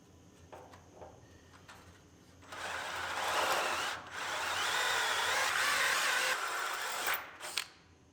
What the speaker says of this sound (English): Drill the inside because it's already upside down